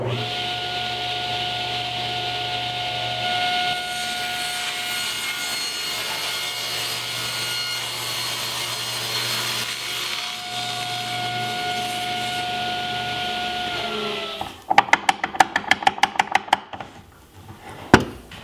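A table saw runs with a steady motor whine and hum, then rips through wood for cabinet sides near the end with a rough, rasping burst of cutting noise.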